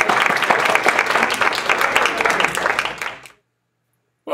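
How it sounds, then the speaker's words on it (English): A seminar audience at a court reporting continuing-education session claps in a loud, dense burst of many hands, sustained for about three seconds before cutting off abruptly into silence. "give me a nice round of applause"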